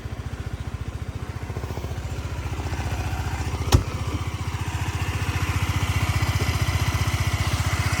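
A Honda Lead 110cc fuel-injected scooter engine runs close by with a rapid, even putter, a brief sharp click partway through, growing slightly louder toward the end.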